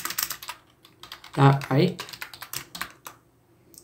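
Quick, light clicks of a computer keyboard as Arduino servo code is typed in, a steady patter of keystrokes running alongside a voice.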